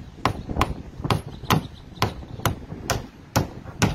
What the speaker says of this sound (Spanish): Vamos a asegurar ponerle varios clavos.